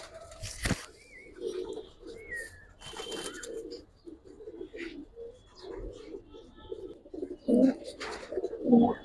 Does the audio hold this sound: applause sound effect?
no